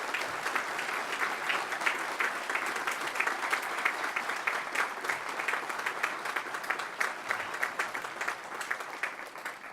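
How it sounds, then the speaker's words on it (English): A large crowd at the Stonehill College commencement ceremony gives a sustained round of applause, dense overlapping clapping that holds steady at moderate volume and tapers slightly toward the end. "So give yourselves and everyone else a giant, giant round of applause."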